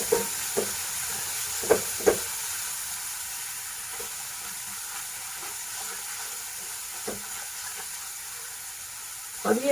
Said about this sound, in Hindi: फिर हम इसको अच्छे से फ्राई करेंगे मसालों को